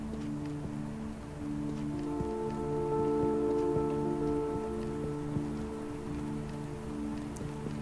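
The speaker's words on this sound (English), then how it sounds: "Oh, it's raining" Steady rain patters across a surface in an unbroken wash, with a low tonal hum running beneath it throughout, in the video game Hobo: Tough Life.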